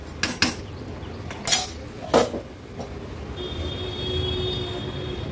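Masale bhat with raisins being stirred in a metal pot: a few sharp spoon clanks and scrapes against the pot near the start, then a soft continuous rustle of rice being mixed, close and without talk.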